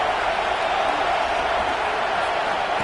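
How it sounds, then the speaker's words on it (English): Stadium crowd roaring steadily at an American football game, a dense, continuous wall of cheering and noise throughout. "It's early, but this crowd is fired up. Listen to this noise here."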